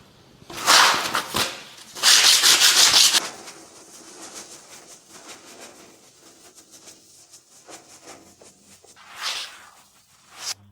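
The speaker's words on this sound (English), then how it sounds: "A bit of fine abrasive sponge and it all works out." Fine abrasive sponge rubbed over painted ceramic kitchen tiles, giving a couple of loud close scrubbing bursts early on, softer rubbing after, and another brief scrub near the end.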